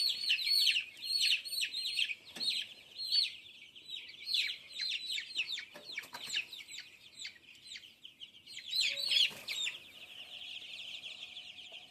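Chickens and chicks chirp and cluck together in a busy, continuous chorus of high calls, with a few louder bursts and a short break partway through.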